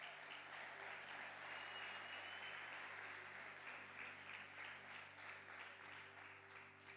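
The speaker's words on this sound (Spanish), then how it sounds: "Vamos a darle un fuerte aplauso al Señor." A church congregation at a Spanish-language midweek service applauds, a steady, dense wash of many hands clapping together, heard faint and distant over a low hum.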